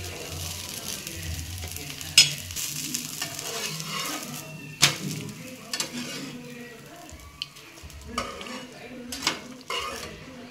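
A dosa fries on a griddle with oil, giving a soft steady sizzle broken by a few sharp clinks and scrapes of a metal spatula, close and fairly quiet.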